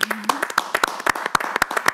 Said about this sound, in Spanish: El aplauso a Sara, qué bueno.